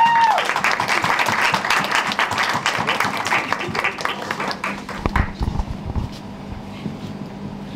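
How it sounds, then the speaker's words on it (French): Dense audience applause rings out loudly at first, then thins into scattered claps and fades toward the end. "on va accueillir un tonnerre d'applaudissements pour Swan Dufaux."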